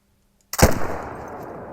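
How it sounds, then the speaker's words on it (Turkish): One sharp rifle shot cracks out after half a second of silence in theHunter: Call of the Wild, aimed at a red deer, and its echo decays slowly across open terrain. "Sanırım vurduk. Güzel bir atış."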